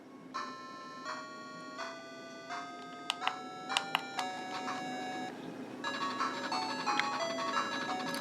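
Sega Master System game audio played through RetroArch emulation on a handheld, a run of chiptune beeps and tones with steady melodic notes and a few sharp clicks, fairly quiet and without speech.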